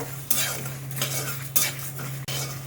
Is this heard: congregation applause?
no